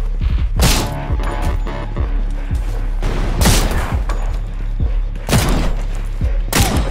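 Bursts of video game gunfire crack out repeatedly in rapid volleys, loud and close, with heavy thumping shots recurring every second or so throughout.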